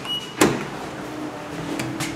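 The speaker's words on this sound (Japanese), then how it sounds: "ドアが開きます。" Elevator door at Shin-Sapporo station on the Sapporo subway Tozai line slides open with a sharp mechanical clunk, followed by a steady low hum and faint chimes in a quiet station.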